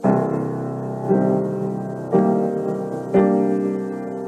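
Four sustained piano chords from a song struck one after another about a second apart, each ringing out before the next, played alone.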